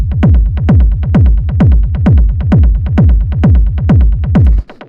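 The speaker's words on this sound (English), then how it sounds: "This one, it's just like this really fat, punchy, more like 909 style kick." A fat, punchy 909-style techno kick drum pounds in a fast, steady four-on-the-floor pulse, loud and booming with a clicky attack, repeating about twenty times before cutting off abruptly.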